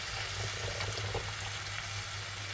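Lamb for a stew frying in a pan, a steady close sizzle that runs without a break and with no voices.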